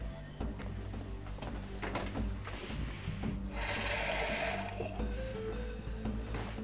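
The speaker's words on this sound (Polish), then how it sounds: "ja jeszcze doleję wody" Water poured into a pot of thick herbal preparation made with ribwort plantain, a steady splashing gush rising briefly in the middle of a dense kitchen background with clinks and rubbing.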